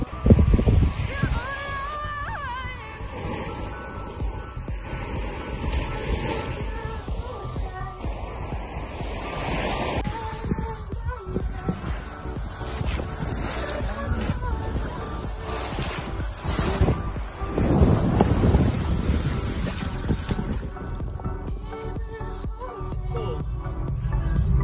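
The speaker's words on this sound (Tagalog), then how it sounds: "Ito ang dagat." Sea waves wash in at a beach with gusty wind buffeting the microphone, a continuous rushing surge that swells and ebbs across the scene while people talk over it.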